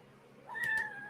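A kitten lets out one short, high-pitched meow, close and clear in a quiet room.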